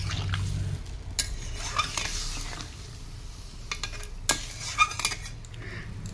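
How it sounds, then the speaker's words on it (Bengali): A spoon stirs a thin rohu fish curry in a cooking pot, with green banana and bottle gourd stems in water. Close scraping and clinking strokes sound over a low simmering hiss, with no talking. "হালকা নাড়িয়ে নিয়েছি।"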